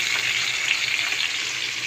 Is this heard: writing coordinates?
no